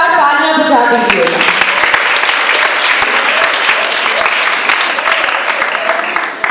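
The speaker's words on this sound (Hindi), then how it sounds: "पास्टर साहब के लिए भी जोरदार तालियां बजा दीजिए।" A church congregation gives loud, sustained applause for the pastor, thick continuous clapping close by, with a voice and tuneful sound briefly heard at the start.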